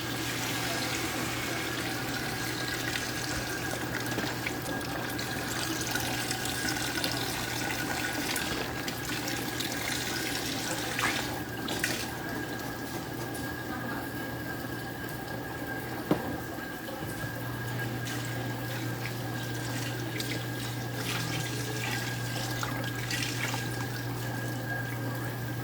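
Water pours steadily into a pot of Louisiana bayou-style roux gravy with smoked sausage and chicken broth, a continuous liquid rush with a low steady hum beneath it and no talking.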